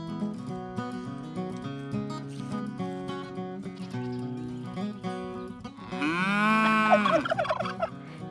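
Cows on a farm beside a winter cow pen, with one long, loud, drawn-out moo rising near the end over a steadier bed of tonal animal calls.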